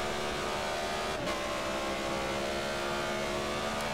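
A BMW Z4 GTE race car at Sebring drones steadily through corners, a continuous engine whine that stays at an even loudness throughout, heard from a distance with no voices.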